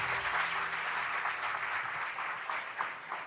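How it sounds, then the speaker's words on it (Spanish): A church congregation bursts into loud, sustained applause, a dense wash of clapping hands that carries steadily throughout with faint voices mixed in. "Vamos a darle un fuerte, pero fuerte aplauso al Señor."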